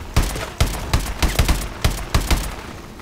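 A machine gun in Call of Duty: Advanced Warfare fires short, loud bursts of rapid shots at close range, with brief gaps between bursts.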